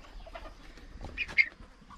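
Chickens on a Portuguese homestead farm give a few short, fairly faint clucks over quiet outdoor background, with one brief louder call near the middle.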